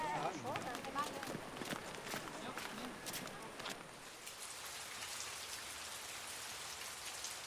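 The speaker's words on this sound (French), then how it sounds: "la pluie tombe et empêche les travaux de commencer." Steady rain falls on a village in Laos, a dense, close patter on surfaces with sharper drips early on and a constant hiss throughout.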